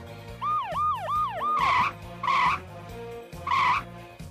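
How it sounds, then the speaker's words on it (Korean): A Robocar Poli toy rescue vehicle, from a set with a toy ambulance, police car and fire truck, sounds a rapid rising-and-falling electronic siren wail. Three loud, evenly spaced tonal blasts follow, up close. "이 소리는 폴리들 사이렌 소리?"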